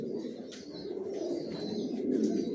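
Racing pigeons in a new loft with bedding, cooing softly in a continuous low murmur with a few faint chirps and wing sounds, close and without talking.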